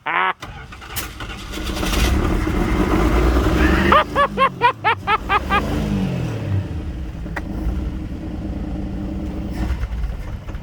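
An old Dodge D150 pickup cranks with a rhythmic starter whir, catches and revs roughly, then settles into an uneven idle, close by, with voices talking.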